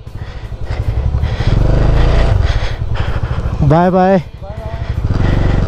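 A Bajaj Dominar 400 motorcycle engine throbs steadily while riding on a winter mountain road toward Spiti, loud and close, with voices talking over it and a brief horn-like tone midway.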